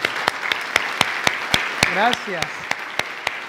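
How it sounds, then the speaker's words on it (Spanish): Congregation applauds children standing after a church Nativity play during Advent, with clear, separate claps near and loud throughout; a voice speaks briefly partway through. "que se pongan de pie para darles un fuerte aplauso"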